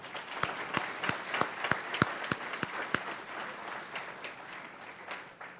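An audience at a high school football banquet applauds the players. The crowd claps steadily from a moderate distance, with a handful of sharper individual claps standing out early before the applause thins and fades.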